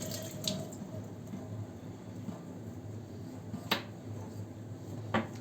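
Tap water runs steadily into a kitchen sink while food containers with bamboo lids are rinsed, a soft continuous splash with a few sharp clinks of the containers.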